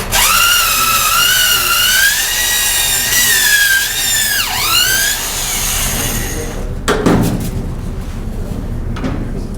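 A power drill with a 3/8-inch bit whines at high pitch as it bores into a wooden decoy body, bogging down briefly and recovering before stopping; faint handling noises follow.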